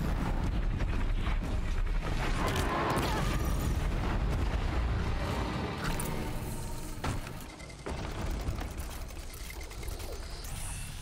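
Bombs explode in Horizon Zero Dawn, a heavy rumbling blast and roaring debris that fills the scene loudly and continuously, fading slightly toward the end with a few sharper bursts.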